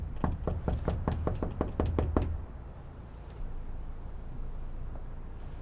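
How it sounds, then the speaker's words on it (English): Roughly ten sharp, evenly spaced knocks on a door, loud and close, form a rapid series that stops abruptly. Quiet background hiss and a few faint high clicks follow. "Showing up at the door, knocking"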